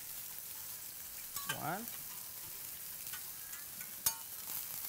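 Onions sizzle faintly on a hot teppanyaki grill for an onion volcano, a steady low frying hiss with a sharp metallic clink near the end and a brief voice.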